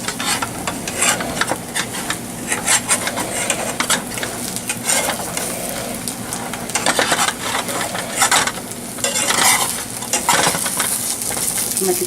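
Crepe batter sizzles and fries steadily in a hot pan, a dense crackling hiss running throughout with scraping and utensil clatter on top, loud and close, with no talking.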